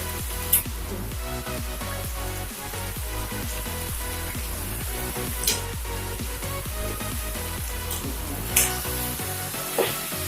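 Meat cooking in a pan on a home kitchen stove gives a steady, close sizzle and spatter that runs throughout, with occasional louder pops and stirring scrapes over a rhythmic background.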